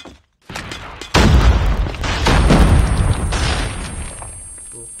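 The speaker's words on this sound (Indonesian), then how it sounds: "Gokil juga tuh bom" A bomb goes off in a video game with a heavy, roaring boom after a brief silence, and a loud rumble keeps going for several seconds before slowly fading.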